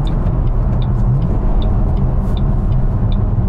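Supercharged 2008 Ford Mustang GT500 accelerating in sixth gear, a loud, steady low engine drone with a continuous rumble and faint high whine, no speech.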